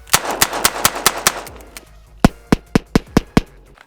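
Rapid shots from a Smith & Wesson 686 Competition revolver firing .357 Magnum, two quick strings of sharp, loud cracks, about six and then six more, with a brief quiet gap between them.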